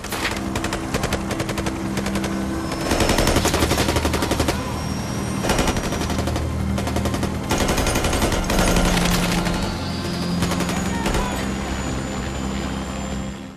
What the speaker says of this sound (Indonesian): Junior membantunya untuk menembaki para petugas dengan skill yang diajarkan oleh reseller Ahmad Shotgun